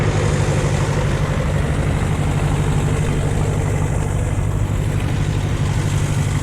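A Vermeer 630A stump grinder, rebuilt, runs hooked to a tractor, giving a steady, loud low engine drone with a constant mechanical hum throughout, no talking.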